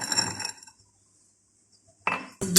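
A spoon clinks and scrapes in a bowl while milk is mixed into a chicken batter, in short clattering bursts at the start and end with a near-silent pause between.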